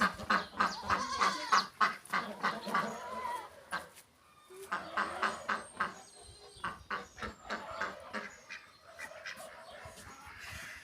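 Farmyard ducks quack and honk in rapid repeated runs, several birds calling close by with only brief pauses between bursts.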